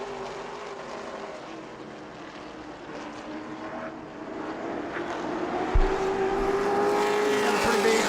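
Race cars roar around New Smyrna Speedway in a steady, loud blur of engine noise, with one engine note rising clearly near the end and a race commentator talking throughout.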